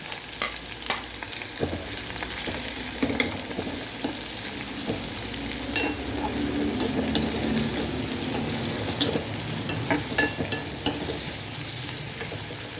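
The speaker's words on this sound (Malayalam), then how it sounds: "എണ്ണ ചൂടായി കടുക് പൊട്ടി. അപ്പോൾ നമുക്കിത് ഉള്ളി ഇട്ട് കൊടുക്കാം." Shallots (small red onions) tipped into hot oil where mustard seeds have already popped, for a lemon curry: a continuous close sizzle broken by repeated scraping strokes of a stirring spoon, with no talking.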